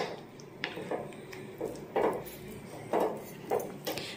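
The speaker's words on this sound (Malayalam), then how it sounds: "ഇനി നമുക്കിത് നല്ലപോലെ ഒന്ന് മിക്സ് ചെയ്യാം." A spoon stirring fried vegetables into wheat dosa batter in a bowl, giving soft wet squishes and light scraping knocks against the bowl in an irregular rhythm, close and fairly quiet.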